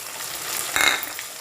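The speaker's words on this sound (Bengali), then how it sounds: "মশলাটাকে কিছুক্ষণ ধিমে আছে কষাবো" A spice paste of ground ginger, garlic and onion sizzles in hot oil for a soybean curry, a steady close frying hiss with a brief louder crackle as it is stirred.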